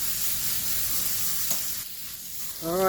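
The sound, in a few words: hose spraying water onto compost pile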